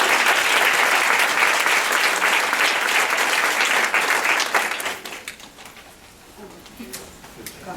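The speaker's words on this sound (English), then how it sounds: "Let's give a round of applause." Loud, dense applause from a crowd carries on for several seconds, then tapers off into scattered claps and fades.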